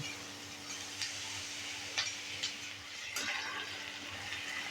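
Onion for masoor dal kanda fries in a pan with a soft, steady sizzle. Faint scattered taps and clicks from stirring punctuate it, and a low hum runs underneath. The sound is quiet and close, and no one speaks.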